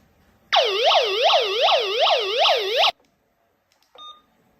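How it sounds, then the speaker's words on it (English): An Anysecu W380 waterproof analog walkie talkie sounds its emergency alarm siren: a loud, rapidly sweeping electronic wail repeating for over two seconds, then cutting off abruptly, followed by a brief short beep. "Emergency flash alarm function."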